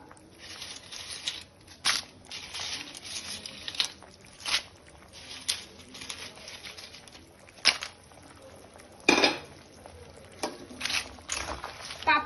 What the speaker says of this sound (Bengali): এবার আমি এর মধ্যে দিয়ে দেবো ভেজে রাখা পাঁপড়গুলো।